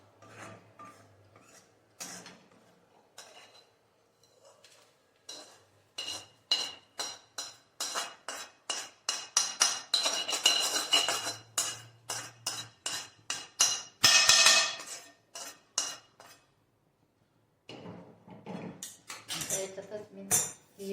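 Grated coconut roasting in a pan until reddish: a long run of quick metallic scraping and clinking strokes of a spoon against the pan, some gaps between bursts, with faint speech at moments.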